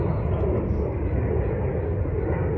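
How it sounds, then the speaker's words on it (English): A steady, broad roar of an airplane overhead, loud and continuous without breaks. "Oh, where's that airplane at?"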